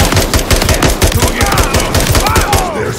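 Single-shot gunfire in Call of Duty Modern Warfare 3, a rapid string of loud, close shots in quick succession with no talk over it.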